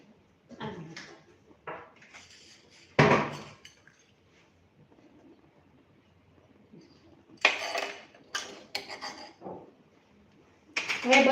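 Carrot relish ingredients with chili powder, sugar and salt being mixed in a bowl, with sharp clinks and scraping strokes of a spoon in separate bursts between quieter pauses.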